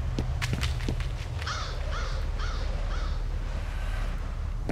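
A crow caws in the shooter game F.E.A.R., four harsh, evenly spaced calls ringing out over a constant low ambient hum, with a few sharp clicks just before.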